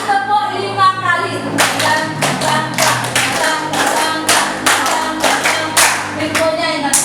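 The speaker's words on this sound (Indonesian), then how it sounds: "3 kali tepuk 5 kali." Group clapping in a rhythm of three claps then five, repeated as sharp bursts of unison claps with brief gaps, close and loud in a classroom setting.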